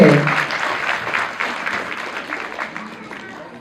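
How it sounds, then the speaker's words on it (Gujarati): Audience applause at a junior school annual day celebration, a dense burst of many hands clapping that starts strong and carries on steadily, slowly thinning, with some voices mixed into the crowd. "એકવાર જોરદાર તાળી બધા માટે."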